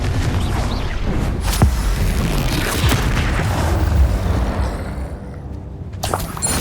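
Incendio fire spell in the Hogwarts Legacy video game, loud booming fiery blasts and crackling impacts in dense combat noise, with sharp hits scattered throughout and no talking.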